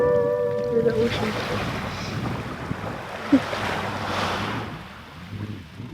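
Ocean surf washes onto a beach at Punta Chivato during a sailing trip, a steady broad hiss of waves mixed with gusting wind noise on the microphone, with a faint tonal sound at the start.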